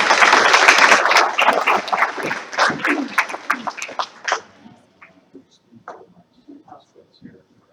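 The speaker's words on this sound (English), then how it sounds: "Big round of applause." Audience applause at a school board meeting, a full burst of clapping that fades over a few seconds into scattered individual claps and quiet murmurs.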